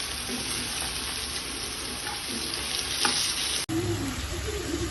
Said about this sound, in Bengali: দেখেন তরকারিটা কষানো হয়ে যাচ্ছে